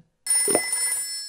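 A telephone bell begins ringing abruptly after a short silence and continues as a sustained, bright ring for about a second, loud and close.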